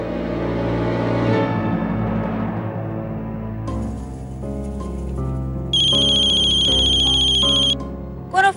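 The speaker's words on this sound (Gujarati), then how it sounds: "કોનો ફોન છે?" A phone rings with an incoming call over a soft music bed, its electronic ringtone chiming in repeated bursts toward the end, loud and close.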